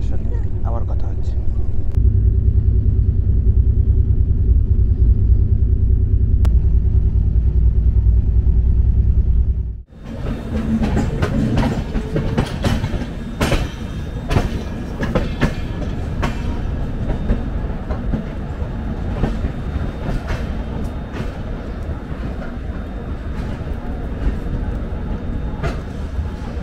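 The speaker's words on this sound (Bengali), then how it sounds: "এখনও কিন্তু ট্রেন পুরো রাইট টাইমেই চলছে" The 12331 Himgiri Express runs on rails with a steady loud rumble, then about ten seconds in a sharp shift brings brighter, louder clatter and rhythmic clickety-clack of wheels over rail joints, continuing to the end.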